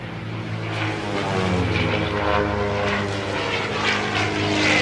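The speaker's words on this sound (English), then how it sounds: "Um avião com motor radial, com um pouco mais de 300 cavalos, um motor Lycoming" A Pitts Special aerobatic plane with a Lycoming engine of a little over 300 horsepower drones steadily overhead at an air show. The propeller buzz is loud and continuous with no talk.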